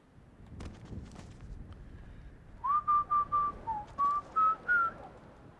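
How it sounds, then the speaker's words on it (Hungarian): A person whistles a short tune of about seven clear, sustained notes in a steady, slightly rising phrase, loud and close, following a few seconds of soft ambient rustle. "Ezt nektek fütyültem, remélem tetszett."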